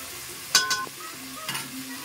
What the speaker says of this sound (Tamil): வெங்காயம் வந்து நல்லா ரோஸ்ட் ஆகி வரணும். நல்லா வதக்கி விட்டு ரோஸ்ட் ஆகிற அளவுக்கு வதக்கிக்கலாம்.